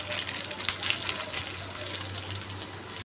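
Water poured into a pot of thin curry with turmeric, salt and tomato, a soft continuous splashing gush heard up close and fairly faint for about three seconds.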